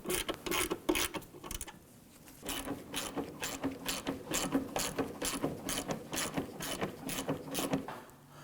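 A hand ratchet runs down the hood hinge bolts on a 2015–2020 Ford F-150, clicking quickly in close, steady bursts with a short pause partway through.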